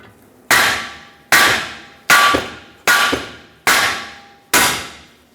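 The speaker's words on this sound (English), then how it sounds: "I'm going to give this a few taps with a hammer" Six sharp metallic hammer taps seating a ball joint on a Ford E-350, at a steady, unhurried rhythm, each ringing briefly before fading, close and loud with no talking.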